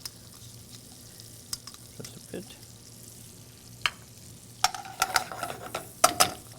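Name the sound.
shallots and fresh garlic sautéing in a pan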